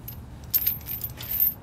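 A metal safety chain extension slides through a ProPride 3P trailer hitch, making light clinks and jangles in a few brief bursts close by over quiet background noise.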